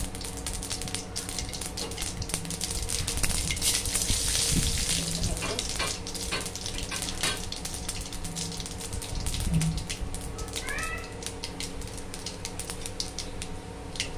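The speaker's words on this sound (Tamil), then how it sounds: "கடுகு 2 போட்டு கடுகு பொரிஞ்சோன்னா உளுந்த பருப்பு போடலாம்." Mustard seeds splutter and crackle in hot oil, a continuous close sizzle with scattered pops, while a voice talks faintly in the background.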